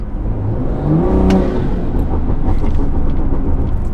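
A 2020 BMW M340i accelerates from inside the cabin, its engine intake rising in a brief swelling whir over a steady road rumble.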